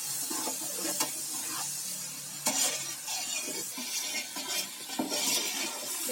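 Onions sauté in a pan for chicken biryani: a constant close sizzle with repeated scraping stirs and the occasional clink of a utensil against the pan, no voices.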